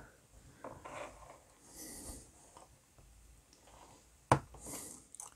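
Hobby knife or file work trimming little spikes off a plastic Primaris Space Marine miniature: quiet rasping and scraping strokes, ending in one sharper, louder cut.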